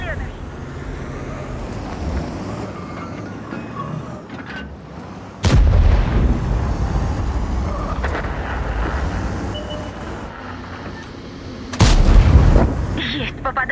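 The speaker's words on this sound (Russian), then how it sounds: "Выстрел. Заряжаем следующий." Two loud, booming tank cannon blasts from a Concept No. 5 in World of Tanks, several seconds apart, over a constant engine rumble, with voices speaking between the shots.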